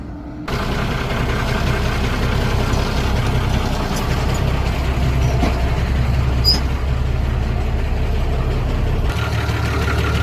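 An Isuzu 6BG1 diesel engine idles nearby with a steady low rumble and clatter, starting abruptly and holding even throughout, with no talking.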